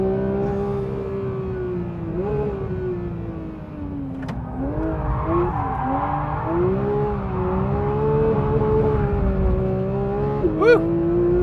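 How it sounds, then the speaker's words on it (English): A 2021 Porsche 911 GT3 (992) engine revs steadily through a slide, its loud, wavering drone rising and dipping with throttle, close and continuous, with a brief chirp near the end. "the new GT3 loves to slide"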